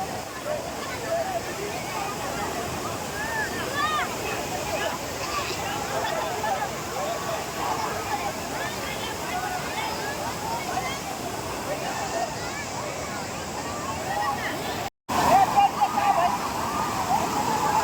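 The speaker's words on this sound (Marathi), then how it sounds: "वरची पाणी खाली येत आहे" Water pouring down at Akkadevi Dam in Chirner, Uran, a steady loud rushing wash with crowd voices and people talking over it.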